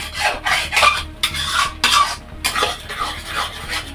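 Banana halwa with sugar being stirred in a pan, a spoon scraping and rubbing in repeated strokes with a gritty, rasping texture, close and alone.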